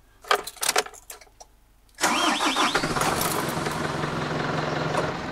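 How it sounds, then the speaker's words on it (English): A cold vehicle engine on Alaska's Dalton Highway cranks briefly after a few clicks and knocks, then catches and settles into a steady, loud idle close by. "I suppose starting the engine is a good place to start"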